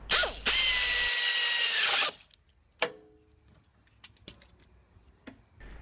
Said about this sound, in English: once they're lined up, I can get the ratchet on and start tightening